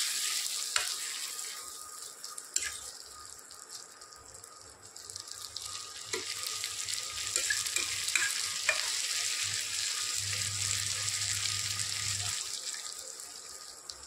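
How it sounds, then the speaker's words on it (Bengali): Banana flower and prawns are stirred together in a frying pan, with a soft continuous sizzle and repeated scraping, clattering strokes of a spatula, fairly quiet and close. "এইভাবে একটু নেড়ে চেড়ে ভালো করে মিশিয়ে নিতে হবে।"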